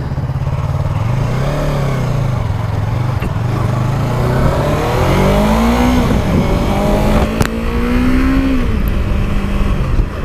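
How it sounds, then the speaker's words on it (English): A 2016 Yamaha R3 motorcycle accelerates hard and close, its engine rising through the revs, dropping between gear shifts and climbing again with a loud, continuous roar. "Just sounds angry, this bike."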